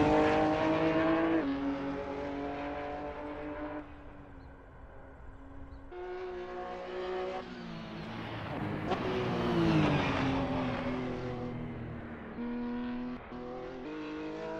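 Porsche 911 GT3 Cup 2017 race car in Assetto Corsa lapping the Nordschleife, its engine note loud and continuous, rising and falling through upshifts and downshifts, with a rough, awkward-sounding change near the middle.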